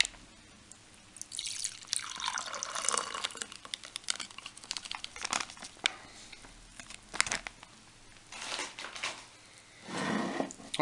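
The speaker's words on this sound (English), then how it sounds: "So let's try and pour this into our cup without spilling this stuff everywhere." Hot chocolate coffee drink from an MRE pouch is poured into a cup, giving a faint, uneven trickle with drips and plastic bag crinkling and rustling, close and quiet with no talk.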